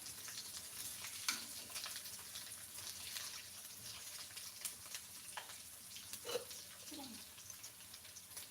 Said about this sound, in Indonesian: Ina, kamu menggoreng ayam kamu tinggalkan ya.